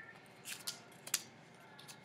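A paper template is cut along its lines with scissors, giving a few faint, crisp snips spaced irregularly over a quiet background.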